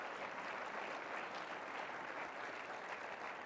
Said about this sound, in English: Can we get a applause for that?